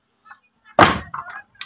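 A house door is shut before leaving home, one loud, close thud with a brief rattle, followed by a couple of small knocks and a faint click.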